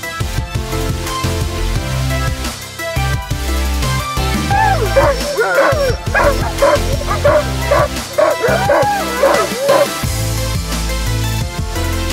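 A crowd of sled dogs barks, yips and whimpers excitedly before hook-up, a dense, overlapping din of high-pitched calls that builds in the middle and continues loud throughout.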